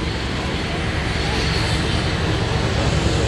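A Westland Lynx AH7 helicopter flies a display at Abingdon in 2023, its engine and rotors making a loud, steady, unbroken roar throughout.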